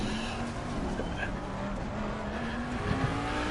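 BMW race cars spin out in a console racing game, engines droning steadily with faint tyre scrabble, mixed into continuous game audio with a voice over it.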